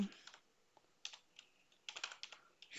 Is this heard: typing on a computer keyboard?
yes